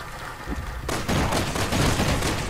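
Video game gunfire from Resident Evil 6: a quiet stretch, then a sudden burst of rapid shots that rattles on continuously to the end, loud and dense.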